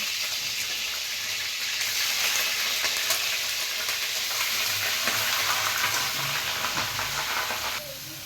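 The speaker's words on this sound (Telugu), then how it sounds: "ఆయిల్లో వేసుకోవాలి చికెన్" Chicken pieces dropped into very hot oil for a tamarind chicken dish, frying with a loud, continuous close sizzle and light stirring; the hiss eases slightly near the end, with no talking over it.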